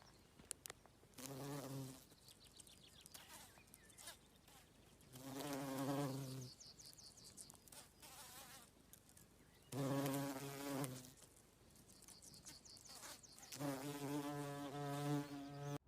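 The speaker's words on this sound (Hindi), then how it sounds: "जब मधुमक्खियां एक फूल से दूसरे फूल पर उड़ती रहती हैं" Honey bees flying between flowers buzz in several separate passes, each a close, droning hum that swells and fades, with quiet gaps between them and no talk.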